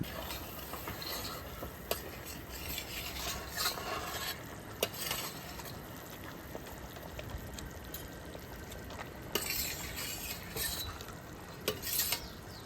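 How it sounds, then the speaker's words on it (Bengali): Fish slipped into a simmering fish curry in a pot, giving a soft bubbling and sizzling hiss with faint stirring and occasional small clicks, low and steady throughout. "মাছের ঝোলে জাল উঠে গেছে, এবার মাছটা দিয়ে দেবো।"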